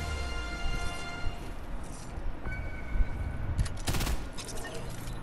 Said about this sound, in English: Oh shit, somebody's shooting.